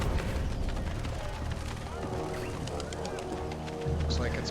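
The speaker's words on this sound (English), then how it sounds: "That explosion was even bigger than the first one." A large explosion in the video game Indiana Jones and the Great Circle, a dense sustained rumbling blast filling the mix for several seconds, loud and close, with crackling debris and a deeper boom swelling near the end.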